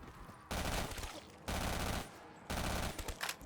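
Three loud bursts of rapid automatic fire from a point gun in a first-person shooter game, each lasting about a second with short gaps between them, close and alone with no voice over them.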